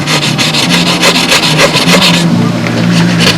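A file rasps back and forth across wood in steady, rapid strokes, loud and close, with a brief change in pitch midway, shaving down a part during a model aircraft crash repair.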